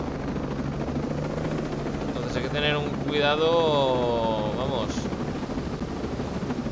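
A helicopter flies in Ghost Recon Breakpoint, a steady rotor and engine roar with whining, wavering tones that swell midway, close and continuous beneath someone talking in Spanish.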